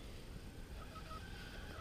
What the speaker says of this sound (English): There's the chickens there.